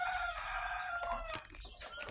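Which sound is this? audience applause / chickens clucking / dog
chickens clucking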